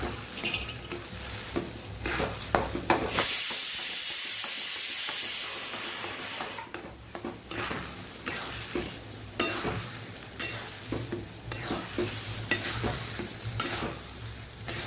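Roasted semolina with ghee and cardamom powder is stirred in a pan for a Kathiyawadi festive thali, giving a steady scraping, sizzling stir throughout with a louder hissing burst early on and no talk.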